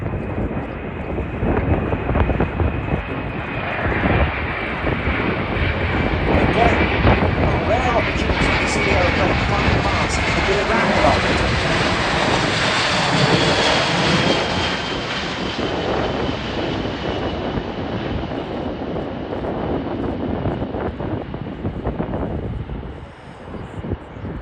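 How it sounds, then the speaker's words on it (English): A C-17A Globemaster III military transport plane passes during an air show flying display, its jet engines a loud sustained roar that swells and fades across the pass, with a commentator's voice heard over it. "C-17A Globemaster 3."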